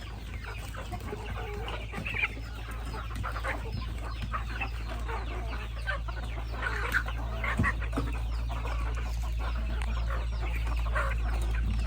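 Many free-range backyard chickens cluck and squawk together at feeding time in a busy, continuous chorus over a steady low hum, with no talking.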